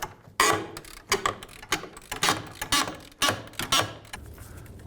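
A 17mm socket and wrench work a bolt free on the rear upper control arm of a 2003-2007 Nissan Murano, giving a run of sharp metallic clicks and ratcheting knocks in an uneven rhythm, close by.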